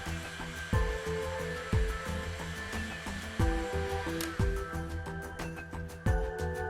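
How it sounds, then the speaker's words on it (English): A steady whooshing hot air blower or heat gun warms the adhesive layer of a factory pre-treated orthopedic insole blank, a constant close airflow hum accompanied by recurring low thumps and tones, with no talking. "Heat the adhesive layer on the factory pre-treated blank with a hot air blower or heat gun."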